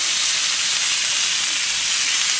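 A rib eye steak fries in a pan with a loud, continuous sizzle and hiss, steady and close with no talking.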